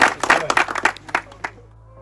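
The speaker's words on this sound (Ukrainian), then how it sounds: "Давайте оплесками підтримуємо їх" An audience at a football tournament award ceremony claps in a brief burst of applause, a run of sharp close hand claps that thins out and fades within two seconds.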